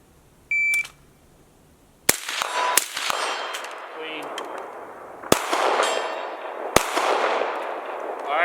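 Pistol shots ring out at a range, several sharp reports each followed by a metallic clang of steel targets being hit, spaced a few seconds apart and loud, with the impacts ringing briefly afterward.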